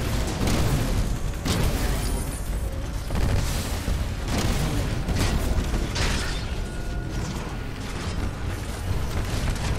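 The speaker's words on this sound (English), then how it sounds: "Me and my missiles" Missiles fired and exploding in the Titanfall 2 campaign, a continuous barrage of booms and bursts, loud and close, with repeated impacts piling over heavy mechanical rumble.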